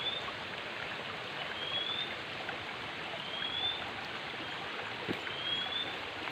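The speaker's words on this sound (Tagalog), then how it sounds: "ilog yun" A river flows as a steady, moderate wash of water with no break. Faint bird chirps recur now and then above it.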